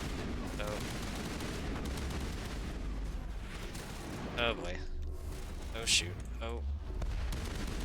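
Gunfire crackles through a Mass Effect combat scene, sustained bursts and booms layered under game music, with a man reacting briefly over the shooting.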